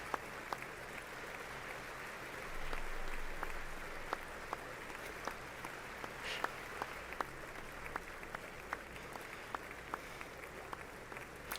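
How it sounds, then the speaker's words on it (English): Applause from a chamber audience at the 2019 State of the Union address, a steady wash of many hands with a few sharper, closer claps standing out on top, sustained at a moderate, somewhat distant level. "It kind of sounds like the cameraman is clapping."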